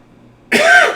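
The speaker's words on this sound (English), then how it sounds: "Sorry, a little residual cough there." A single short, harsh cough bursts out of silence halfway through, close and fairly loud, with a throaty rasp.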